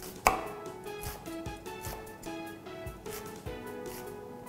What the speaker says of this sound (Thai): ตัวหอมใหญ่นะครับเดี๋ยวอามจะซอยเป็นเส้นๆพักไว้ก่อน